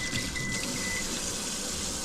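Running water from a kitchen tap pours steadily for washing up after grilling, a constant close hiss with a faint high tone briefly above it.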